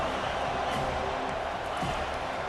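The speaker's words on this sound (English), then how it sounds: "This crowd bringing the energy and noise early" Stadium crowd noise in EA Sports College Football 25, a constant dense roar of fans filling the stadium with no breaks.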